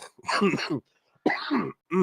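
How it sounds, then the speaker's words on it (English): Three rough, throaty coughs in quick succession, close and fairly loud, separated by short silences. "This cough will not leave me alone right now."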